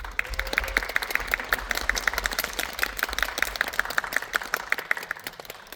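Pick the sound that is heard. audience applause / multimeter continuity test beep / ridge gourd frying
audience applause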